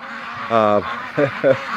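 Ducks kept outdoors on a freezing morning give three harsh, close quacks, one longer call followed by two shorter ones, loud against faint outdoor background.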